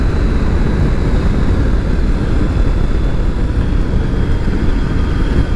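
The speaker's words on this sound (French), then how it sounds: "Ah, le moteur est bien agréable, j'aime bien le son." A Triumph Tiger 900 GT motorcycle engine running on the road: a steady, loud, unbroken engine drone with wind rush that holds a constant level throughout, with no talking.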